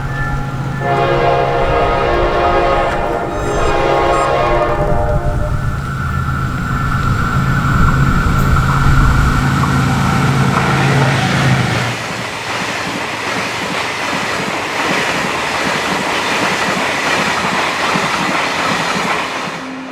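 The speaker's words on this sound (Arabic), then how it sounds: "في قطر هيقف جاي دلوقتي" A train in rural Upper Egypt passes close by, loud, with a long blaring horn over rumbling wheels and clattering cars that carry on after the horn stops.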